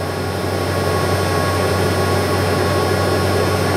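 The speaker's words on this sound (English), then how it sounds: "Just let it run in at high idle." An RV engine with carburetor trouble runs at high idle while warming up, a loud, steady, unbroken roar and hum with no change in pace and no voices.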